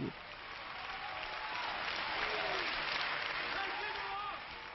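Continuous, dense applause from a crowd greeting a bride in a wedding gown and a leading couturier at a 1993 fashion show, steady and fairly loud throughout, with a murmur of voices underneath.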